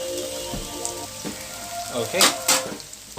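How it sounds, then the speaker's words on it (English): Shredded cabbage and carrot frying in a pan for spring rolls, a soft steady sizzle with a few sharper bursts of crackling as the vegetables are stirred, and a brief spoken word. "I'm going to cook the cabbage and carrot first, because these two vegetables take longer to cook."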